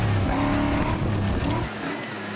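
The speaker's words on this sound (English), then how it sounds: "It is a lovely drive straight down this meandering country trail." A company car drives fast along a meandering country trail on a rally special stage, its engine roaring loud and close before dropping away after a second and a half.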